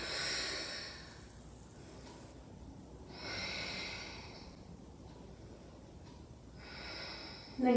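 Deep, slow breathing during a restorative yoga flow: soft, airy inhales and exhales rise and fall in long, even cycles, quiet and close, with no talking.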